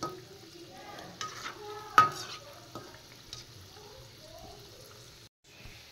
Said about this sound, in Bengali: তালের বড়া ভাজা কমপ্লিট।